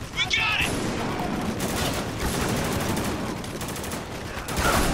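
Rapid gunfire in the military shooter video game Spec Ops: The Line, dense bursts of rifle and machine-gun shots crackling continuously, with someone talking over the shooting.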